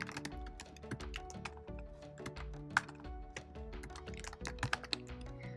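Quick, steady keystrokes on a computer keyboard as a note is typed, close and fairly quiet with an irregular rapid rhythm and no talking.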